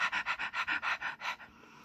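A dog pants close by, about eight quick rhythmic breaths in a steady run that fades into quieter breathing at the end.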